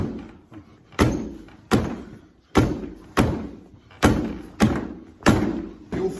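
Strikes land on a makiwara post in a steady series of about eight sharp, solid thuds, roughly evenly spaced and close up, each decaying briefly before the next, with no talking over them.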